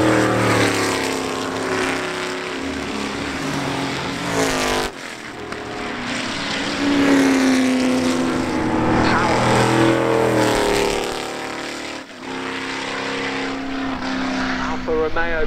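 Can-Am race car engines roar continuously at the Goodwood 81st Members Meeting, loud and sustained with shifting pitch as cars pass, while a commentator talks throughout.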